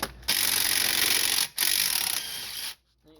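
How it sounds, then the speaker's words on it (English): A ratchet works loose the engine head bolts on a small truck, giving two long, loud, close mechanical runs of rapid clicking separated by a brief pause. "start loosening up some of the head bolts"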